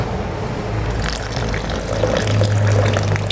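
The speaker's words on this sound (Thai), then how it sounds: "ทีนี้ใส่น้ำมะนาวลงไปค่ะ" Lime juice pours into a sauce being made for Thai braised pork leg on rice, a soft continuous trickle of liquid lasting a few seconds, close and fairly quiet.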